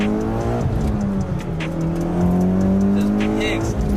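A tuned Mitsubishi Evo X running on E85 and making about 430 wheel horsepower accelerates hard nearby, its engine note rising steadily through the revs, loud and continuous.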